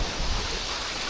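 Ocean surf at a beach in Leyte, a continuous broad wash of waves with steady breezy hiss, no voices.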